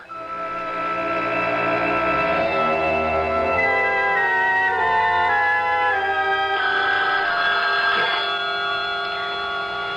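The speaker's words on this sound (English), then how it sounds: "The phone." A telephone rings in an old drama scene, a steady bell tone repeating through the whole stretch over a bed of orchestral music, fairly loud and without talk.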